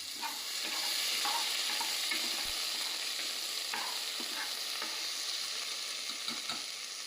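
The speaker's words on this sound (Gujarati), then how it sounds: "પછી નાખીશું આદુ, મરચાંની પેસ્ટ. થોડું હલાવી દઈશું આપણે." Ginger-chili paste frying in a pan for khichdi, a continuous soft sizzle with occasional light stirring scrapes and taps, close and steady without any voices.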